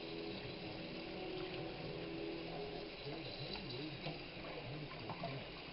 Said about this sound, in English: We're going to let them run through the cold water.